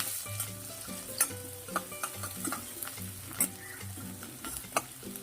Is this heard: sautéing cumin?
yes